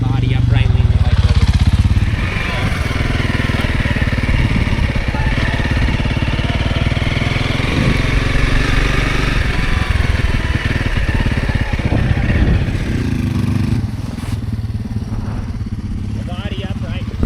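A dirt bike engine revs and drones through a riding lesson on leaning the bike into turns, the motor loud and continuous from start to finish while an instructor talks over it.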